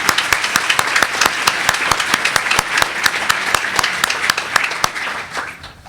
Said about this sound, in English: Can we have a round of applause for us?